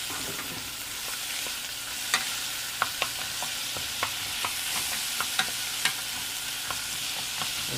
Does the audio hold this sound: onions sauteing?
yes